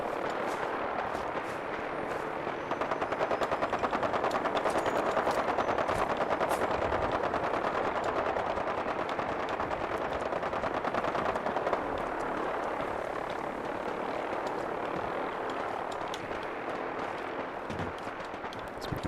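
Sustained automatic gunfire crackles from the Fallout 4 firefight between the Brotherhood and the Gunners, rapid bursts rolling continuously at mid distance. A low drone resembling aircraft or a vertibird hums beneath the shooting, and no one speaks.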